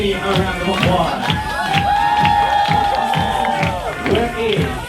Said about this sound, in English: Give this city a round of applause.